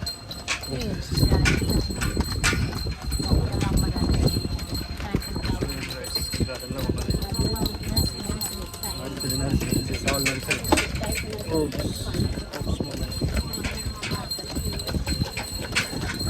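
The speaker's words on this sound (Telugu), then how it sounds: "ఎద్దుల బండి పరిగెడుతుంది." A bullock cart rolls along with steady hoof clopping close by, mixed with rumbling wheels and ambient crowd noise, while people talk throughout.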